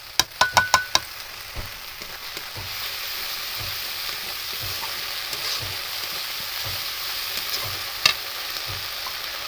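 Ginger paste fries with onion paste in a pan for a homemade paneer dish. A few sharp clinks open it, then a steady sizzle runs under repeated, rhythmic stirring scrapes, with one louder knock near the end.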